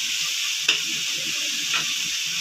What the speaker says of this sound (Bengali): এটাকে আরও একটু নেড়ে নেবো টমেটোটা একটু গলে যাওয়া পর্যন্ত